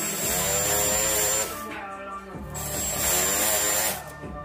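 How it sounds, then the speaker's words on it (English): A handheld rotary tool with a carbide burr grinds the housing of a rotary engine from a $1000 RX7, its steady high whine running in two long bursts separated by a brief lull. "So I've got a little bit more time with the carbide burrs"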